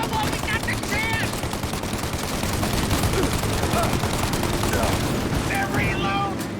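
Sustained heavy gunfire in Mafia: Definitive Edition, a dense, continuous fusillade of automatic shots with bursts overlapping, loud and close, with shouted voices over it.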